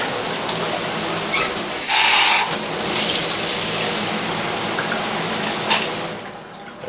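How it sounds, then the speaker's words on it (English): Water running from a worn shower spout and down the drain, a steady splashing gush that holds constant throughout and eases slightly near the end, close and alone. "way too much water goes down the drain"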